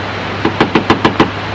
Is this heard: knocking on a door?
yes